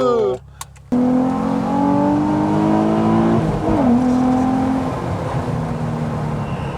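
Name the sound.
Nissan 350Z engine revving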